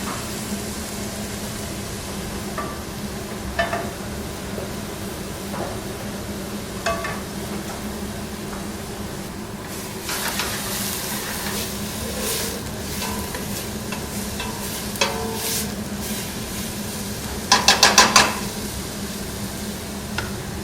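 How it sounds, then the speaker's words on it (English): Food frying in a pan with a little olive oil, left unstirred to crisp: a steady, close sizzling hiss runs throughout, with scattered clicks and a brief burst of clattering near the end. "We're gonna put it in the pan with a little bit of olive oil, and we're not gonna stir it."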